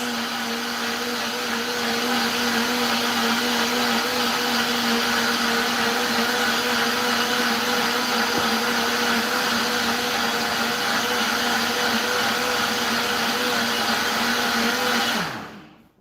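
A blender whirs steadily through a full jug of smoothie, a loud, even motor drone with a constant whine that holds for about fifteen seconds before cutting off abruptly; no one speaks.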